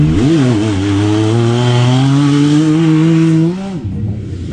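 A vehicle with stock exhaust and the baffle removed roars loudly up close, a throaty, buzzing drone that rises briefly then holds steady for several seconds before cutting off abruptly.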